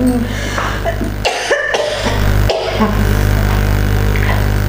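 A couple of harsh coughs burst out close by, over a steady low background hum.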